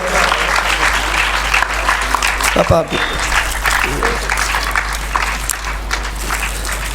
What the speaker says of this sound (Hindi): बहुत ही आराम से एक बार जोरदार तालियां।